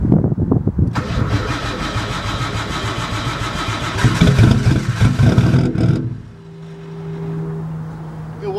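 A Nissan 240SX with thick oil and almost no fuel is cranked by its starter, a rapid chugging whir for several seconds. The engine catches with a loud burst, runs briefly, and then settles into a quieter rough idle hum.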